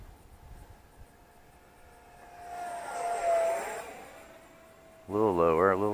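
A small 800mm Arrows T-33 Shooting Star RC model jet on 4S power flies past, its whine rising to a loud, close pass around the middle and fading; a voice speaks at the end.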